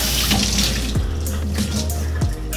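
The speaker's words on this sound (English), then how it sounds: "I'm going to use cold water and go ahead and run it underneath it." Cold water streams steadily from a tap over a K&N air filter, a continuous close, loud splashing wash with no talking throughout.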